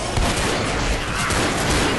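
Gunfire in the zombie shooter game Left 4 Dead sounds as a dense, continuous crackle of rapid shots blending into a loud chaotic din throughout.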